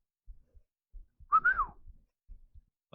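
One clear, rising-and-falling whistle made with a flute and a wine glass sounds alone against near silence, with faint low thumps around it.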